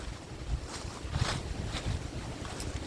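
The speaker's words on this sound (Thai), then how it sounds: "ลมแรงมาก" Strong, steady wind roars and gusts in a forest on a cold day, a broad rushing wash with brief surges, close to the microphone and buffeting it, with no voices.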